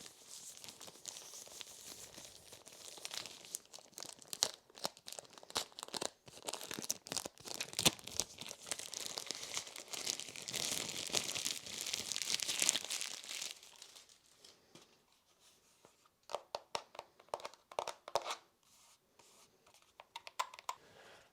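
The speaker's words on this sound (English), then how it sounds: "We'll put this to the side and unwrap the controller." Plastic packaging is crinkled and peeled off a DJI Mini 2 drone controller, crackling close up in irregular bursts that grow busier, then drop to sparse rustles and snaps.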